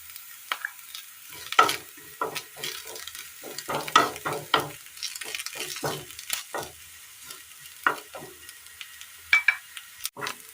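Curry leaves dropped into hot oil with onions, with salt from papad in the oil, frying in a pan. Stirring scrapes and clatters come in irregular bursts over a soft, steady sizzle, close by, with no talking.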